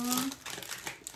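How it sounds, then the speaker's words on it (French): A short burst of paper crinkling close by, with a brief vocal tone at the start. "désolée pour le bruit du papier"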